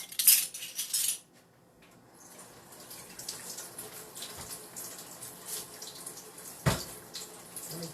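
A small measuring spoon is rinsed under a running kitchen tap, with a couple of bright metallic clinks at the start followed by a soft, steady stream of water close by.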